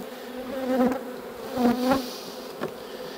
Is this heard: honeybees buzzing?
yes